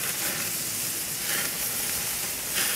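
Bacon-wrapped beef filet kabobs sizzle in a pan over low heat, giving a loud, continuous, dense frying hiss up close that barely changes from start to finish, with no talking.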